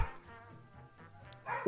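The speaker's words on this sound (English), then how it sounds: "Let me know if you guys hear the dogs barking, by the way." Dogs bark in the background of a tabletop roleplaying session, with short yapping bursts at the start and end over a quiet room hum.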